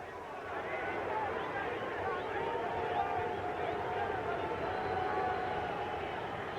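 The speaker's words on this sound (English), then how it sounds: "The crowd here at Hampton Coliseum starting to chant, Pete, Pete, Pete" A boxing crowd at Hampton Coliseum chants in a steady, distant roar that fills the arena, with a commentator talking over it.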